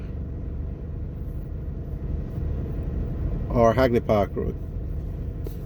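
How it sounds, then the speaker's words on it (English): Steady low rumble of slow, bumper-to-bumper traffic on a road heading out of downtown Kingston, Jamaica, heard from inside a vehicle, with someone speaking briefly over it. "So here you can see bumper to bumper traffic"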